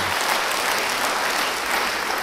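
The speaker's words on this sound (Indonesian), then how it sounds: "beri tepuk tangan bagi dia" Steady, dense applause from a church congregation at a revival service, continuous and fairly loud for the whole stretch with no talk over it.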